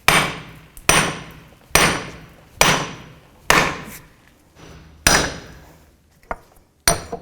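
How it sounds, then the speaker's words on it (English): A hammer delivers about seven sharp metal-on-metal blows to a bolt on the wheel hub of a 2001-2007 Volvo V70, spaced roughly a second apart, close and loud with no talking. "So with a hammer I'm just going to hit this."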